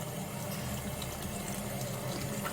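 Tap water runs steadily and loudly while fish is washed with vinegar in a kitchen, a continuous close rushing flow with no talking.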